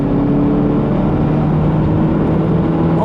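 A 2017 Volvo S90 R-Design T6 with a two-litre turbocharged petrol engine and Polestar tune, heard as a loud, steady engine drone and whir with no talking.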